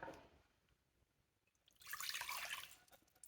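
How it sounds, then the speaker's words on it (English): A cup of water for sourdough sandwich bread pours into a mixing bowl in one quiet, splashy stream lasting just over a second, following a near-silent stretch. "First I'm going to put the water in"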